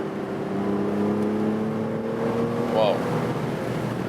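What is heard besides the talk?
Aston Martin V12 Vantage S Roadster driving loudly at 120 km/h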